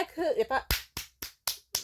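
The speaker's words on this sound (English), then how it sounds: "I'm applauding with my hand and my thigh right now" A hand slaps against a thigh five times in an even, steady rhythm, each smack sharp and close, following a brief stretch of someone talking.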